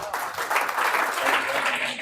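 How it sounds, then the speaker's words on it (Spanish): An audience applauds a lecturer after a talk on artificial intelligence at a seminary, a dense, steady wash of clapping from many hands that holds evenly throughout. "Un aplauso para el maestro."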